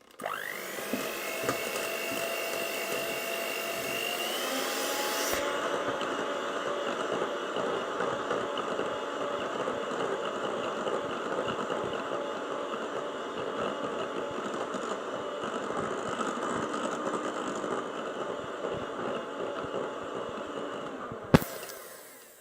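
An electric mixer whisks tiramisu cream in a bowl, a steady whirring motor hum that shifts pitch early on, runs continuously, then cuts off with a sharp click near the end.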